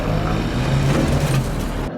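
A truck engine roars steadily in a TV drama scene set on a ranch, a loud, sustained low rumble that builds slightly before cutting off abruptly.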